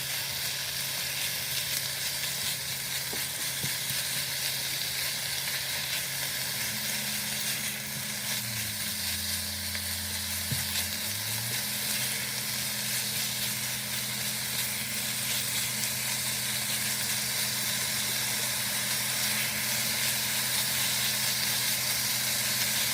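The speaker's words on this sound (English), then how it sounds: "I'm going to stop chatting for a little while I saute this" Ingredients for a 1928 chicken gumbo sauteing in a pan, a loud, unbroken frying sizzle and hiss that holds steady throughout, with faint stirring and a low hum beneath, no talking.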